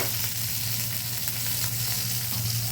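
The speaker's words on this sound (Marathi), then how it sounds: "ते लसूण आणि ते सगळं भाजलं गेलं पाहिजे, त्याने फ्लेवर येतो" Garlic roasts in hot oil for khichdi, giving a steady, dense sizzle that stays close and even throughout, with no voices.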